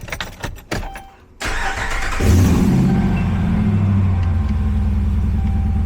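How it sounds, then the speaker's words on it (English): A 2012 Ram 1500 pickup with the 5.7L Hemi V8 cranks briefly after a few clicks and clunks, then catches and settles into a steady, deep idle rumble that stays close and fairly loud. "Got that truck running."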